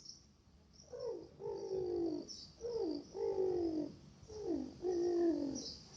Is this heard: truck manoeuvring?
no